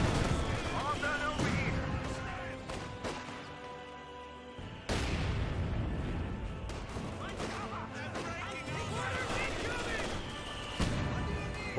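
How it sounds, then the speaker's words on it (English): Mortar shell impact in Company of Heroes 2 amid a busy battle of rifle and machine-gun fire, with a loud crashing burst near the middle and continuous gunfire around it. "Great mortar hit there."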